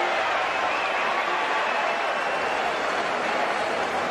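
A boxing arena crowd roars steadily during the Floyd Mayweather Jr. versus Manny Pacquiao fight in 2015, a broad, continuous wash of cheering and shouting at constant loudness.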